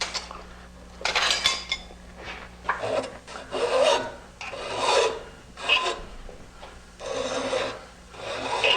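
Hand file rasping to deburr a freshly cut metal tube joint on a bicycle frame, several uneven bursts of scraping strokes close by with short pauses, no voices.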